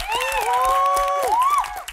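Audience clapping and cheering for a quiz team at a live event, a short burst of applause under which voices call out in long sustained shouts.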